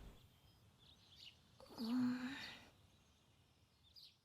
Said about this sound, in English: Woke up to the sound of birds chirping.